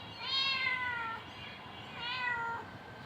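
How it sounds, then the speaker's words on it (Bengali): A cat meows twice, each a drawn-out, falling cry close by, with a short quiet gap between them and no talk. "এই যে দেখুন বিড়াল"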